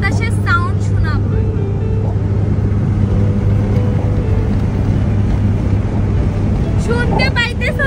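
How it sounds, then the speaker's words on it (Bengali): Wind rushes in through the open window of a moving car with a continuous broadband roar under a steady low engine hum, and a voice speaks briefly at the start and near the end. "তাই জন্য আমি তোমাদেরকে বাতাসের সাউন্ড শোনাবো"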